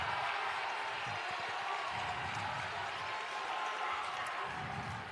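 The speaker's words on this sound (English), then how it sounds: "You can hear that Perry Meridian crowd roar." A large basketball crowd roars steadily in a high school gym during a Perry Meridian versus Martinsville varsity game, a dense, sustained wash of cheering with no clear breaks.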